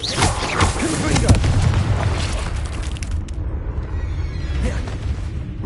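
A Confringo fire spell in Hogwarts Legacy lets off a loud booming explosion that fades into a long, rumbling tail, with voice-like game sound mixed in.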